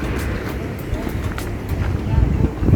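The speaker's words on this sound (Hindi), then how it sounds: "इधर भी बहुत तेज़ हवाएं चल रही हैं" Strong mountain wind at a small roadside dhaba-style restaurant in Kiwai, Kaghan Valley, Pakistan, buffets the microphone with low rumbling gusts that grow toward the end, under close talking.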